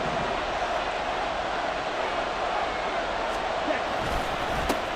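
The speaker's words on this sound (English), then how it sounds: "This Buffalo crowd letting them have it." A Buffalo stadium crowd roars in a steady, dense wash of noise during a Madden NFL 24 football game, loud and continuous, with a voice talking over it.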